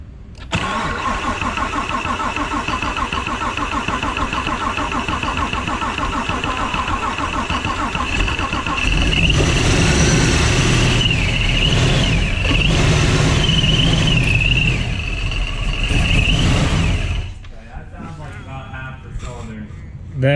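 A 7.0L LTX V8 fitted with a ProCharger race blower cranks and settles into a loud, lumpy idle, then swells and holds a deeper roar before cutting off, with people talking over it.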